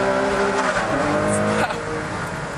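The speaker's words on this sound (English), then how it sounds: "you get that lovely V12 engine behind you, the blip of the down change that comes automatically, and a huge surge" A Ferrari Enzo's V12 engine pulls hard on a race track, a steady, loud mechanical howl with a sudden dip partway through as an automatic downshift blips, then continues slightly quieter.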